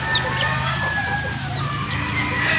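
Chicks and chickens cluck and peep steadily, close and fairly loud, with a continuous dense chatter from the flock filling the whole stretch.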